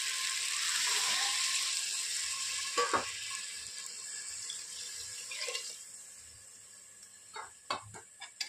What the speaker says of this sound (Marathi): आता टाकत आहोत पाणी